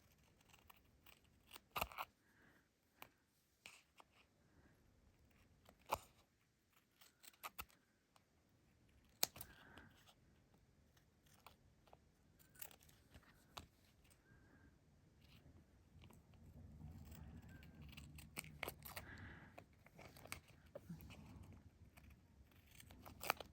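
Scissors trim a paper card for a metal-tape window card craft, with a scattered run of faint, sharp snips and small handling rustles in a quiet room and no talking.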